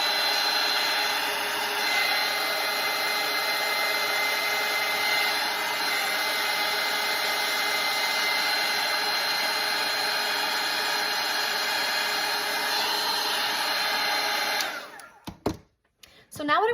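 Hair dryer blowing steadily and loudly on a wet watercolor painting of a fall pumpkin floral wreath, a continuous close whir lasting about fifteen seconds before it cuts off abruptly.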